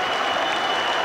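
Dense, loud, continuous applause from a packed arena crowd after a British featherweight title boxing bout, clapping filling the whole moment.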